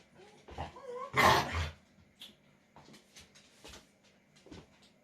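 Two scruffy dogs indoors in a room, with a brief growl and whimpering vocalizations, one louder snuffling burst, then scattered quieter sounds against a quiet background.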